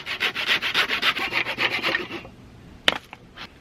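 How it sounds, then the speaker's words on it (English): A handsaw finishes a cut through wood for a large front porch build, giving a steady run of rhythmic rasping strokes that stop partway, followed by a sharp clunk and a few faint knocks. "I'm going to finish off this cut with a handsaw."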